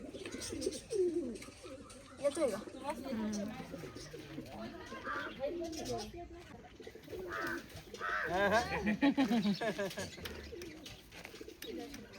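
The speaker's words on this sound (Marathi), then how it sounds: "बघ पाखरं लय पाखरं आहे" Pigeons coo repeatedly in a soft, rolling chorus close by, with voices talking intermittently over them.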